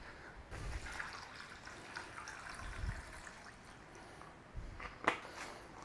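Water is poured into a bag to cover a joint of beef for a corned beef brine, giving a soft continuous trickle with a few splashy bursts, quiet and close with no talking.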